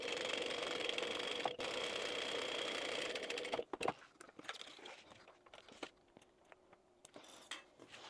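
A sewing machine runs in a steady, fast continuous whir while stitching a quilted bag, then stops, followed by sparse clicks and small handling knocks.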